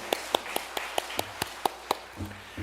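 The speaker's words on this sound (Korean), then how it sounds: "우리 찬양의 영혼들이 하나님께 영광의 박수 올려드립니다" Congregation in a Korean church in New York claps during an Easter Sunday worship service, a series of sharp, evenly spaced claps in steady rhythm, fairly close, then fading into a soft low murmur.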